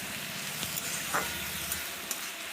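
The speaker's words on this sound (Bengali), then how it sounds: "চাল কুমড়ো দিয়ে লবণ হলুদ দিয়ে ভালো করে এটাকে একটু ভাজবো" Ash gourd frying in oil with turmeric and salt, a steady close hiss and sizzle with faint crackles and a soft clink now and then, heard alone.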